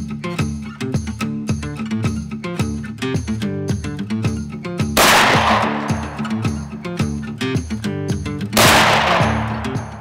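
A large gun fires at a gun range in loud rapid bursts of blasts that overlap with clanging metallic ringing. Two heavier, broadband booms stand out midway and near the end.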